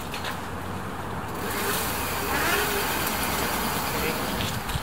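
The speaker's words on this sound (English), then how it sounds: "And lots of cars coming by." Steady road traffic rumbles and swells as cars pass by nearby while riding an e-bike, a continuous engine drone with a louder pass midway.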